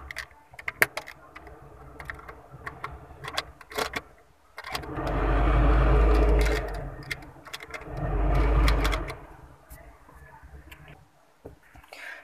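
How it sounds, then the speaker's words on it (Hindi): The AC blower of a Mahindra Bolero hums steadily in two long swells amid clicks and rattles of switches and fittings, with occasional talk nearby. "देखिए, ब्लोवर काम कर रहा है, एसी भी काम कर रहा है"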